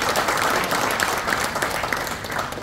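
An indoor audience at a football association meeting applauds steadily, a dense, even wash of clapping hands from many people that holds for the whole few seconds without a break.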